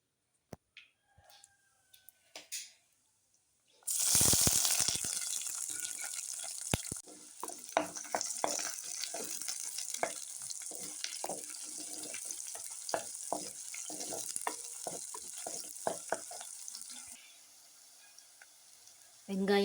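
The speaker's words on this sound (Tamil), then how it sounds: "பொடியாக நறுக்கி வச்சுருக்க சின்ன வெங்காயத்தை அதில் போட்டு நல்லா வதக்கணும்" Finely chopped small onions hit hot oil with a sudden loud sizzle for a Tamil fish curry, then keep frying steadily under scattered stirring clinks for several seconds before the sizzle eases.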